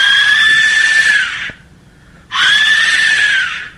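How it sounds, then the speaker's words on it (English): Two long, piercing, scream-like whistle blasts, each steady and shrill for about a second and a half, separated by a short silence. "let's take a listen to the death whistle"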